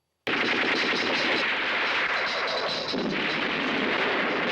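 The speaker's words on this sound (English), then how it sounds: "We cut to a pathetic attempt at a full-fledged war scene, sans bullet hits and coherent editing." A war scene from a 1981 zombie film, filled with dense, loud, continuous gunfire: rapid machine-gun bursts and heavy booming shots that start abruptly and keep pounding without pause.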